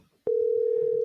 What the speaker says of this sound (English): Let's see if the Panda picks up the phone